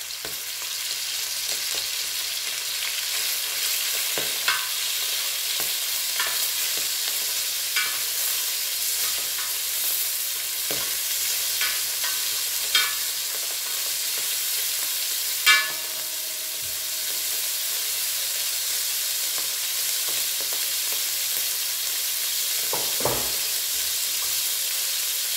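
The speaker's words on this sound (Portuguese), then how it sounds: "Vou colocar agora aqui a linguiça apimentada" Spicy sausage with bacon frying in a pan for arroz carreteiro, a steady sizzle and hiss with occasional spoon clinks and scrapes scattered across a long stretch, no talk.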